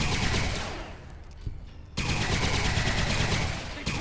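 Rapid automatic gunfire in a shooter video game, loud continuous bursts of tightly spaced shots, a brief pause near the middle, then another sustained burst.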